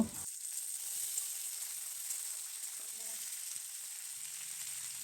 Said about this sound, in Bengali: এরপর কেটে রাখা পেঁয়াজগুলো দিয়ে দেব।